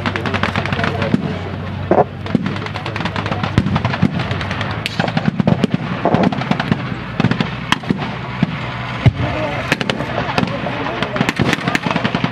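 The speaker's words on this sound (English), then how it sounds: "backed by the sheer weight of fire from the Allied armour" Allied tanks, including an M36 tank destroyer, firing in a WWII battle reenactment at the Victory Show, heard as a dense, continuous barrage of sharp loud bangs and crackling shots for the whole stretch.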